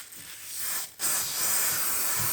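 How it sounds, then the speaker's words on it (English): A Kleeneze Remove and Refresh carpet cleaner aerosol is sprayed in two long, close, loud hissing bursts, with a brief gap near the middle and no talking. "I'm just going to shake it up and give it a bit of a spray."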